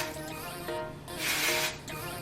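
Hairspray hisses from an aerosol can onto flipped sections of hair while styling beach waves, one brief loud burst of spray, close up, with quieter room noise before and after.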